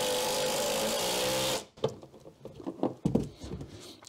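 100mm screws driven at an angle into timber while building garage shelving, heard as a loud, steady driver whir for about a second and a half, then a run of lighter knocks and clicks.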